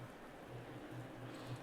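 Light rain in the racing game Assetto Corsa Competizione at the Nurburgring, a soft steady hiss of drizzle with a low droning hum beneath it, faint and continuous throughout.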